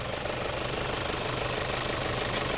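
Toyota Fortuner 3.0-litre diesel with a stock turbo and intercooler idles steadily up close, a dense, constant mechanical rumble with a faint knocking edge and no talk.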